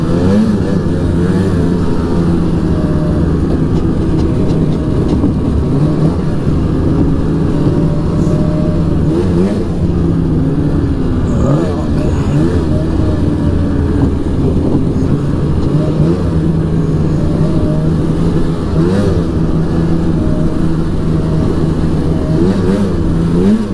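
Polaris Edge X 800 snowmobile engine running on a test ride, a loud continuous engine drone with rising and falling revs and no voices over it.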